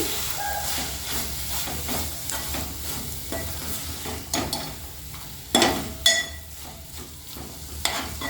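Amaranth leaves fry in a pan with a soft continuous sizzle and hiss, broken by several sharp scraping stirs of a spatula, close and fairly quiet.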